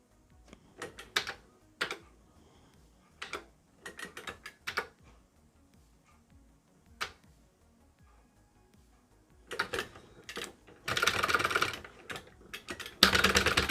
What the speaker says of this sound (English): not only do these buttons sound so much better than the stock ones, they feel 10 times better